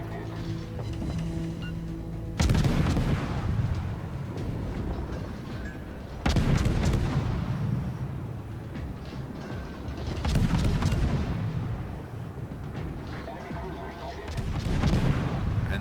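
Naval gunfire in the World of Warships video game, heavy booming salvos at intervals of several seconds, each with a long rumbling tail, over steady game ambience.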